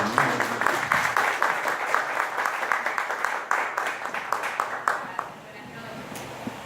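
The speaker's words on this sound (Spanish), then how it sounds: "un aplauso a la dama" A conference audience claps in a steady rhythmic burst, fairly close, with voices mixed in before the applause dies away.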